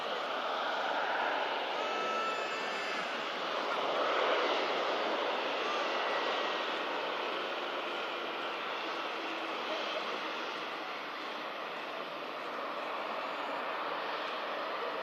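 A Jet2 Boeing 757 jet taxiing on a snowy day at Manchester Airport gives a steady, broad engine roar that holds throughout with little change in level.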